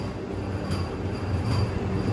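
Visakhapatnam–Bengaluru superfast express train 08543, running half an hour late, rumbling past with steady low wheel and carriage noise, close and continuous, without talk.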